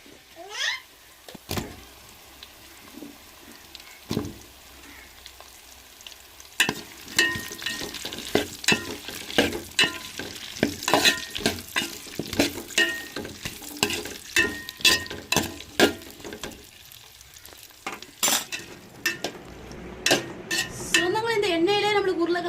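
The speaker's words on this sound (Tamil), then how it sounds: "இந்த எண்ணெயிலே வதக்கி எடுத்துக்கிறோங்க" Onion and eggplant sizzling and sautéing in hot oil, with a spatula stirring and scraping the pan in irregular bursts; moderately quiet and close.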